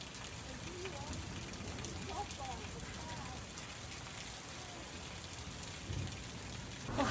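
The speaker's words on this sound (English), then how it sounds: "I don't get to see a lot of rain in Arizona" Steady rain in Helena, Montana, a dense even patter of drops on a surface, fairly close and continuous throughout, with a brief louder swell near the end.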